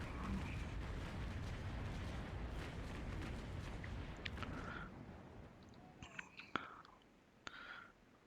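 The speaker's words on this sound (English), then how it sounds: "The goal is to get another broadside off onto this." Broadside cannon fire from a sailing warship in the Naval Action naval combat game: a rumbling, noisy barrage, then a few sharp, isolated booms and pops toward the end.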